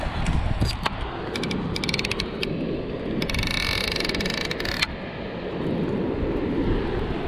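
Fishing reel line paying out while free spooling during a cast from coastal rocks, a bright ticking buzz in short bursts and then a sustained run over steady surf and wind noise; no talking.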